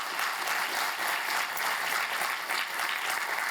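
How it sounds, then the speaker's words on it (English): Steady audience applause at a UX conference talk, a dense even patter of many hands clapping close by for a few seconds with no voices over it. "So give me a clap now."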